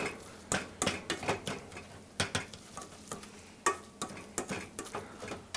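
Mushy peas seasoned with salt and pepper being stirred in a bowl, a string of irregular soft taps and scrapes from the utensil, close and fairly quiet with no talking.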